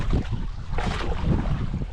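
Steady outdoor wind buffets the microphone in a continuous loud, close rumble on a calm, pleasant day by open water, with no one speaking.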